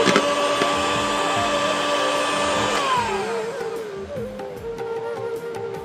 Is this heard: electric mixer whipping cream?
yes